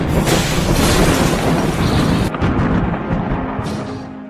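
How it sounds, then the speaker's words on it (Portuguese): A loud explosion effect: a dense, roaring blast that rumbles for about two seconds, cuts off sharply, then leaves a fading rumbling tail. "Metade de Metrópolis foi destruída na explosão"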